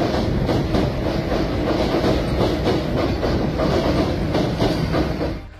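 An electric suburban train runs on rails in Chennai, a loud, close, continuous rumble with rhythmic clickety-clack from the wheels that fades slightly at the end.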